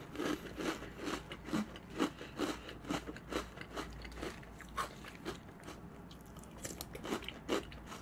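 Crisp chocolate snack being crunched and chewed close to the mic, a steady run of sharp bites and crackly chews with short pauses between, no talking.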